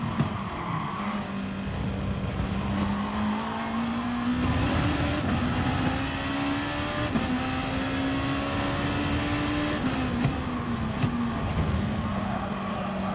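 A race car in Gran Turismo Sport, during a 2019 Nation and Manufacturer series online race, holds a steady, loud engine drone that climbs and dips slightly with gear changes and throttle throughout.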